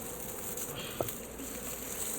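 Wild bees humming steadily inside an underground telephone cable pit, a continuous close buzzing drone with one brief knock partway through.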